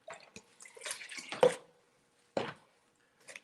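Water poured into plaster mixing containers at a historic preservation workshop, heard as a handful of short, close, splashy pours with brief pauses between them and no talk.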